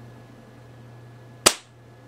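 A single sharp shot from a UTG Gen5 airsoft sniper rifle, a close, crisp crack with a brief tail, heard alone against a steady low hum.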